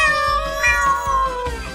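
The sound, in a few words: robot dog toy imitating cat meow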